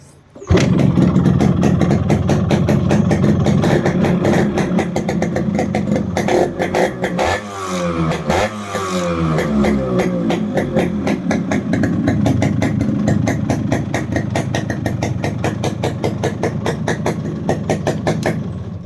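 A Yamaha RX 100 motorcycle engine fires up after restoration and settles into a steady, loud idle with a rapid pulsing rhythm, briefly revving midway before returning to idle.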